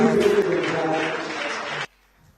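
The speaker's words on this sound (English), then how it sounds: "Don't be stingy with your clapping." Audience applause at a university registry training programme, a dense burst of clapping from a crowd lasting under two seconds before cutting off abruptly to near silence.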